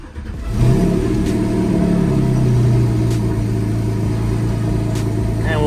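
A Porsche engine fires up from a cold start, catching after a brief crank and settling into a loud, steady high idle close by, with nobody talking.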